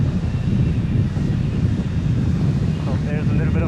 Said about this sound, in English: So there's a little bit of a gust here.